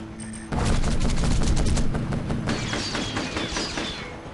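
Units trading fire in the Field Commander strategy video game: a dense, rapid fusillade of game gunfire and booms that starts abruptly, then continues as scattered shots fading slightly toward the end, with no talk.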